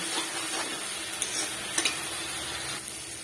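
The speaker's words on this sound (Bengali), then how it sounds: "এটাকেই ভালো মতন কষিয়ে নেব।" Spice paste for doi chicken being sautéed in a pan, with a steady soft sizzle and a few scraping stir clinks throughout, close and moderately loud, no talking.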